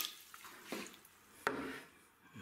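About half a litre of water is poured into a bottle of blackcurrant pulp for dessert wine, a quiet, brief splash and trickle with a couple of louder gurgles.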